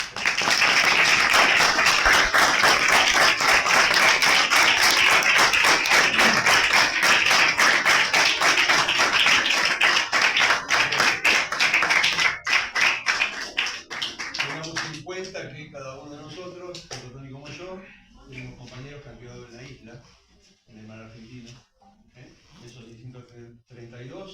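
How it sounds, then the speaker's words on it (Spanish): An audience gives strong applause in honor of the fallen Malvinas veterans. Dense, loud clapping runs steadily for about twelve seconds, then thins and fades to scattered claps as a voice begins speaking. "le dimos un fuerte aplauso"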